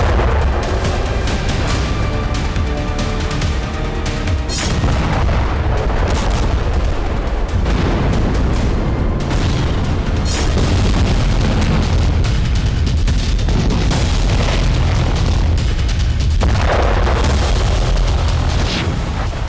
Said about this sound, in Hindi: गाजा पर भीषण बमबारी की गई